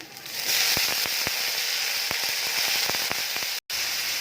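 Dried fish frying with onions in a hot pan, a loud, steady sizzle with rapid crackling pops throughout, briefly cut off near the end, with no voices.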